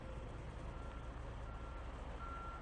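A truck pulling a trailer reverses a few feet, its backup beeper repeating steadily over a low diesel engine rumble, heard from close by with no talk.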